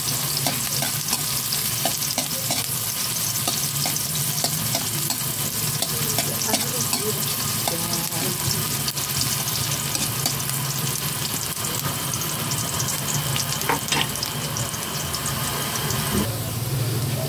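Onion and then ginger sautéing in a pan for a mussel dish, a loud continuous sizzle under frequent scraping and clinking of a stirring spoon, close up, with no talk.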